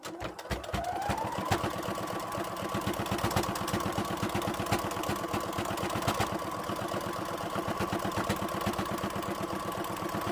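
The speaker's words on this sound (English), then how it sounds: "when you're sewing and you're on a curve and stuff like that, you have to turn the fabric at the same time using both hands" A sewing machine stitches fleece fabric at a steady fast rattle after a brief start-up, running close and continuous for several seconds.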